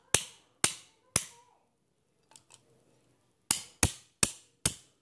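Sharp pressurised bursts from a small gas cylinder's trigger valve, fired in quick shots: three in a row, a brief pause with faint clicks, then four more evenly spaced, close and loud.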